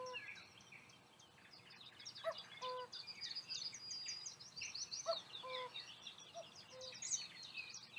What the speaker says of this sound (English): Almost sounds like he's saying cuckoo.